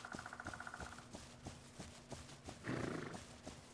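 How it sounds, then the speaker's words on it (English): A horse in the video game The Legend of Khiimori gives a long whinny, and its hooves clip-clop at a steady pace beneath it, then a louder roar-like snort follows, all at a moderate level within game ambience. "I hear the animal sounds. Oh, that's my horse though."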